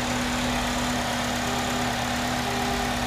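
A 2009 Chevy Malibu's 2.4-liter engine idles steadily under an open hood, a smooth, even hum with a low constant tone and no voices.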